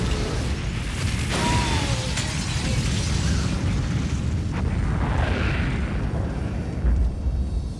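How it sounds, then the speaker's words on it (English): A loud explosion rumbles through a thriller film scene, a dense, sustained roar of blast and debris that fills the clip without letting up, with no voices. "I heard the sound of an explosion just before it cut off"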